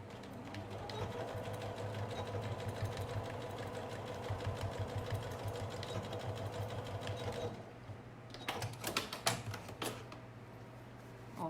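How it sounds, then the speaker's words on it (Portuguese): A sewing machine stitches fabric with a steady, fast mechanical chatter and low motor hum, running continuously before stopping, followed by a few scattered clicks and handling knocks. "é só você vir na máquina e costurar aqui"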